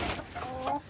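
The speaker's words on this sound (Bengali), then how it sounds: "মালয়েশিয়া শো সেরেমা খুব ছোট সাইজের মুরগি" Tiny Malaysian Show Serama chickens in a polythene-covered cage let out a short burst of close, overlapping clucks and squawks.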